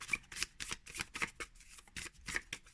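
A small deck of 24 Tarocchi tarot cards is shuffled by hand at close range, with quiet rhythmic riffling bursts repeating in a soft, crisp pattern.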